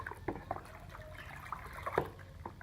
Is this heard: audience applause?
no